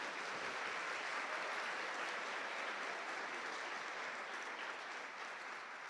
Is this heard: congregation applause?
yes